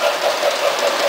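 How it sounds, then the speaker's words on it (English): Model freight train circling a holiday layout track, a close steady whir with evenly spaced rhythmic pulses as it runs. "On the outside track is the freight train, which circles around the town, past Billy's house, goes into the mountain,"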